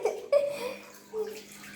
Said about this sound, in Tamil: எவ்வளோ தண்ணி ஒழிக்குதுடா.